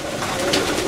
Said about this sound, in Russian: Здоровые голуби, они сразу приходят, кушают.